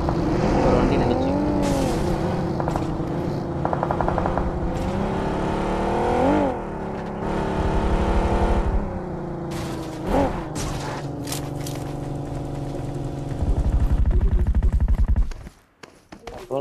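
Engine of a vehicle driven in PUBG Mobile roars loud and continuous, its pitch swelling and dipping with revs and gear changes, with bursts of gunfire and other game noise layered over it.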